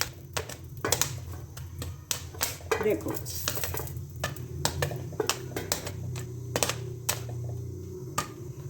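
Popcorn pops in a pot, a scatter of sharp, irregular clicks and taps close by, with a person talking now and then over them.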